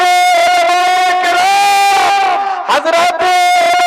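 A large crowd roars back in unison to the Naara-e-Takbir slogan at a religious gathering, loud sustained collective shouting with harmonic voiced chanting that dips briefly near the end before resuming.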